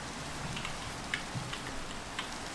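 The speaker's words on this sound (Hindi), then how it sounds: "ये बारिश भी बंद नहीं हो रही यार" Steady patter of rain falling in the Minecraft video game, a soft continuous hiss with scattered faint drop ticks throughout, heard alone with no talking.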